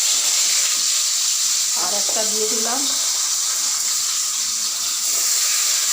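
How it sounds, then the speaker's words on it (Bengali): Pomfret fish sizzles in hot oil in a pan, a steady, close hiss with a fine crackle throughout, while a voice speaks briefly partway through. "পমফ্রেট মাছ ভাজা করব। এই যে তেল দিয়ে দিচ্ছি"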